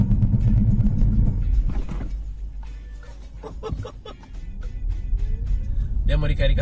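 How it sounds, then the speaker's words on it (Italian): A Peugeot e-2008 electric SUV makes an emergency stop with ABS, a loud rolling rumble and tyre noise fading as it slows, with stuttering pulses and squeaks near the end. A voice talks over it. "proviamo adesso a fare una frenata di emergenza"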